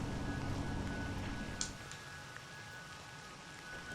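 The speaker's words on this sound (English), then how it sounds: "Oh, it's now raining." Steady, soft rain hiss in the video game Crow Country fills the scene, with a low hum at first and a couple of faint clicks over the patter.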